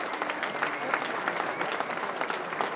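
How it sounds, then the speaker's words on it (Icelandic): Audience clapping at an Icelandic stallion show, a steady dense patter of many hands with a few sharper claps standing out, filling the hall at moderate level with no voices over it. "gefum þeim gott klapp"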